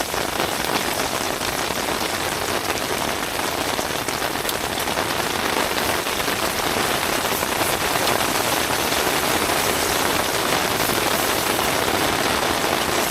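Heavy rain pours steadily onto a surface at a campsite, a dense, loud, constant patter that continues unbroken throughout with no talking.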